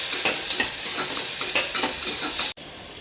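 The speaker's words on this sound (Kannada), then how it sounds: "ಜಜ್ಜಿರೋ ಬೆಳ್ಳುಳ್ಳಿ ಕರಿಬೇವು ಚಕ್ಕೆ ಲವಂಗ ಈರುಳ್ಳಿ ಇಷ್ಟು ಹಾಕ್ಬಿಟ್ಟು ಸ್ವಲ್ಪ ಚೆನ್ನಾಗಿ ಫ್ರೈ ಮಾಡ್ಕೋಬೇಕು" Crushed garlic, curry leaves, cinnamon, cloves and onion fry in hot oil, giving a steady close sizzle with stirring scrapes throughout and a brief cut near the end.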